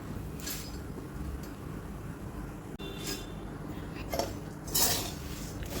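Puffed rice stirred with ghee and turmeric in a pan, a spoon giving intermittent scrapes and light clinks against metal over a steady low background hum, close and moderately quiet.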